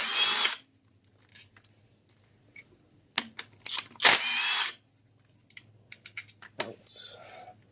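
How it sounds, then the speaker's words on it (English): A power drill or impact driver whirs in short bursts while bolts come out of a K20Z3 engine during teardown, with quiet clinks of tools between runs and someone talking in the background. "we'll just continue taking bolts off."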